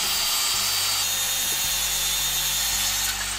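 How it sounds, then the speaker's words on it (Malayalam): A power saw cuts through a wooden leg piece for a cat cage, a steady buzzing whine that holds for several seconds with slight shifts in pitch as the blade moves through the wood. "അപ്പോൾ ഇനി ഏതായാലും നമുക്കിത് കട്ട് ചെയ്തെടുക്കാം."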